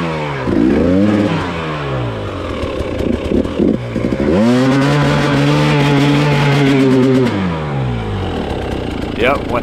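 An enduro motorcycle engine revs hard and close, its pitch climbing and falling through repeated throttle bursts, with a long sustained high rev in the middle and rattling clatter around it.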